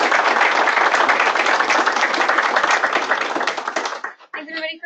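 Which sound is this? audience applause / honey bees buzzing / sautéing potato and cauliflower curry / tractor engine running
audience applause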